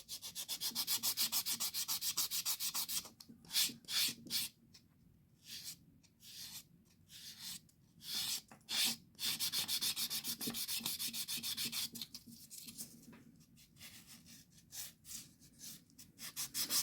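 A 100/180 grit nail file buffs acrylic nails in quick, close scratchy strokes, some long steady passes and some short bursts with brief pauses between them, and no talking.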